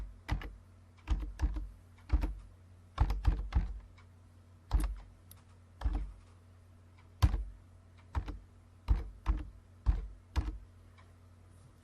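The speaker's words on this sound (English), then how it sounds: "So now all I need to do is type in my text." Typing on a computer keyboard, entering text in Photoshop: irregular bursts of crisp key taps in quick clusters, close and fairly quiet, with no talking.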